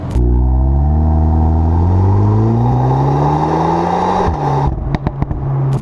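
A Volkswagen Golf 8 R (320 hp) engine revs loudly and close by, its pitch rising, then it drops off into a quick series of sharp exhaust pops and bangs.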